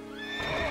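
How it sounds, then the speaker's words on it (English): Horses in the Berserk video game give a loud, drawn-out neigh over steady background game noise, the whinny rising in the second half of the brief moment. "The horses then rear their heads. Clatter, clatter. They got startled and they're now running away."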